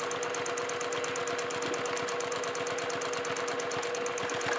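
A sewing machine runs fast and steady during free motion quilting on a baby quilt, its needle stitching in a rapid, even mechanical rhythm with a faint motor hum, close up and with no talking.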